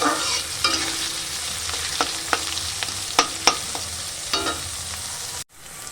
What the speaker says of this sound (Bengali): পেঁয়াজ রসুন বেশি ভাজার দরকার নেই হালকা করে ভেজে নিলাম